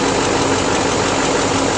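A 2009 Chevrolet Silverado 2500 crew cab diesel pickup with a lift and 4WD idles steadily and loudly up close, a constant broadband clatter and rumble with no talking over it.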